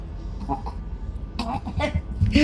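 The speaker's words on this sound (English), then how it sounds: "Gotta do the sick cough." A short, deliberate cough, slightly rough and close up, with a brief breathy voice sound around it.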